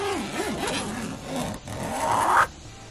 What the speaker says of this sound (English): he doesn't take the zippers really fast. He kind of just goes slow with them.